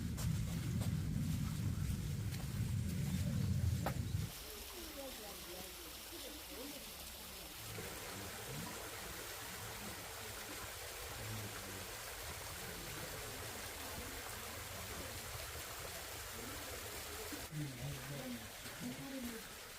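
A waterfall and stream rush steadily in the background at a Korean mountain village hanok, a soft continuous wash of running water, while someone talks over it.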